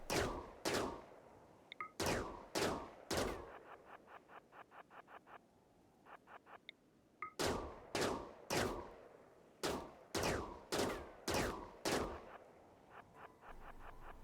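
Rifle shots in RimWorld fired at Arctic foxes on sea ice: loud single cracks in uneven bursts, each trailed by a fast rattling patter, with short quiet gaps between volleys and no talking.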